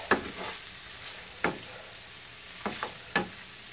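Aromatics frying in a pan for shrimp Florentine pasta: a soft continuous sizzle broken by four or five sharp stirring scrapes, close up and without voices.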